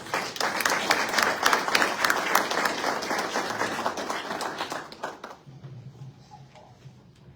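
A seated audience at a book presentation gives strong applause to welcome a guest doctor; dense, loud clapping fills the first five seconds, then cuts off abruptly, leaving faint room noise.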